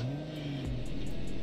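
A 2020 Rolls Royce Cullinan idles briefly in Roblox Driving Empire, then its engine revs up with a rising, steady hum.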